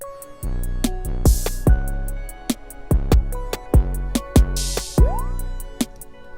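A sparse electronic drum machine beat made in Reason, with deep kick thumps and sharp snare hits in a steady pattern, plus bursts of hissy noise and a rising synth tone.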